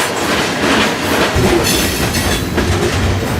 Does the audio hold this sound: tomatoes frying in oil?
no